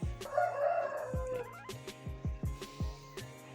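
A rooster crows once, somewhat distant, followed by a string of short sharp knocking sounds and faint clucks.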